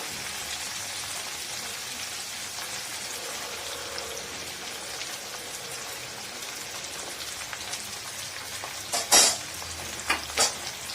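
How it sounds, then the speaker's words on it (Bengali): Long beans and flat beans frying in a pan, giving a steady crackling sizzle like light rain, with a few louder clatters and stirring knocks near the end. "তো হালকা গোল্ডেন হয়ে গিয়েছে"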